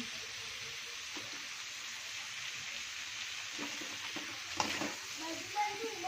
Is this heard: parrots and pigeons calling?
no